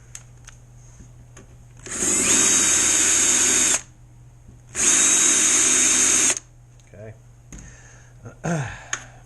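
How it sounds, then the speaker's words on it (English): A power drill fitted with a tapered bit bores holes in transom hardware for an RC gas boat build, running in two steady loud bursts of about two seconds each with quiet gaps and light handling noise between them. "Using a tapered bit."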